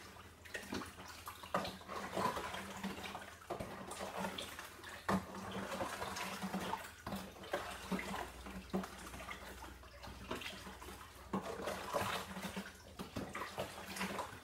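Sugar is stirred into hot water in a vessel for a sugar wash, giving a continuous swishing, sloshing water sound at moderate level with repeated scraping strokes. It is heard alone without talk.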